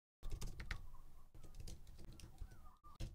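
Rapid keystrokes on a computer keyboard clatter close and clear in quick irregular bursts with short pauses, alone without any talk, and a faint steady tone sits behind them.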